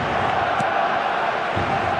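Stadium crowd noise in the eFootball 2026 football video game, a dense, loud, continuous roar of cheering with a short burst partway through.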